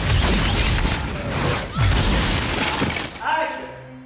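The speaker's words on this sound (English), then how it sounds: "Then we did a pass with just the explosions." Loud, continuous blasts and crashing debris from explosions on a small contained film set roar through the clip, with booming low rumbles and shattering noise before settling into a ringing tail.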